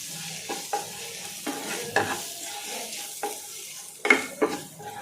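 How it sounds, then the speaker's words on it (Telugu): Protein powder and chickpea flour are mixed together for a makhana snack, making close scraping stirs with a few light clinks against the container in an uneven rhythm. No one talks. "ప్రోటీన్ పౌడర్ కొద్దిగా శనగపిండి బాగా మిక్స్ చేసుకోవాలి"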